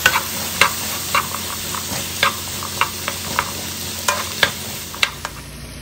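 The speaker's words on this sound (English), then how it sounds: "Four cloves of minced garlic. Cooking time, 3 minutes." Four cloves of minced garlic frying in a pan, a steady close sizzle under repeated scraping strokes of a stirring utensil at an uneven rhythm, no talk.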